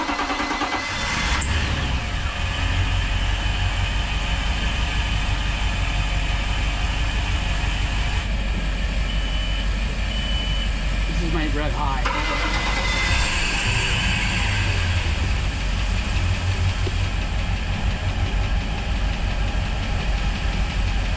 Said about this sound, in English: Okay, so we're ready to start the engines.